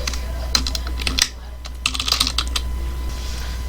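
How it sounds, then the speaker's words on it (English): Password being typed on a computer keyboard: a run of quick, close plastic key clicks in uneven bursts, a short pause partway through, over a low steady hum. "you just type in your username that you want to use, password"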